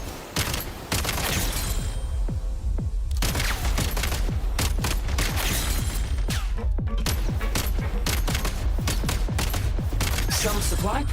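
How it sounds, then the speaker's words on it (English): Rapid gunfire during a Genshin Impact 7.0 Act I Archon Quest, a dense, loud burst of repeated shots and impacts that keeps going for about ten seconds, with a voice talking underneath. "I think I'm gonna shoot first."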